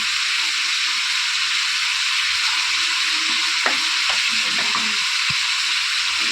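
Chicken skin frying in a pan with salt, chili and turmeric powder makes a loud, steady hissing sizzle, with a few soft stirring scrapes near the end and no talk.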